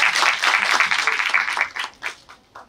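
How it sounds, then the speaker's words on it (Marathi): Audience applause at an award ceremony honouring women entrepreneurs: a burst of clapping from a crowd, strong at first and then thinning into a few scattered claps before fading out. "जोरदार टाळ्या"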